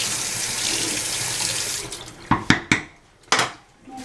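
Tap water runs steadily into a sink while cooking lasagna, then cuts off, followed by several sharp metallic clinks of a spoon being rinsed and knocked against the basin, close by.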